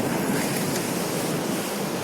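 Ocean surf breaking on the shore at Pariaman beach near a traditional fishing harbor, a steady close wash of foaming water with wind noise over the microphone, continuous for the whole stretch.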